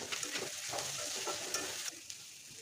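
Spices for a garlic eel curry, with chilli powder, coriander powder, turmeric and a splash of water, stirred and frying in a pan. Steady close sizzle with repeated scraping strokes of the spoon throughout.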